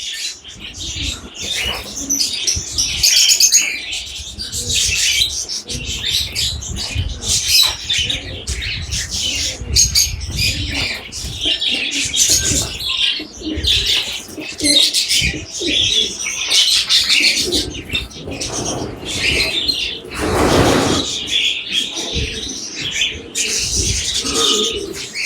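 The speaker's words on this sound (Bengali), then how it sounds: "দেশি বিদেশি সব ধরনের কবুতর" Pigeons of many local and foreign breeds coo continuously at the crowded Mirpur animal and bird market, with wing flaps and chirps from other birds mixed into the busy, loud ambience.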